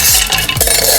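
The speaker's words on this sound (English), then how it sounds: "I'm just gonna stir it in 2 seconds." Peach iced tea mix being stirred with ice in a jug or pitcher, a short close burst of clinking and swirling with a few distinct strokes.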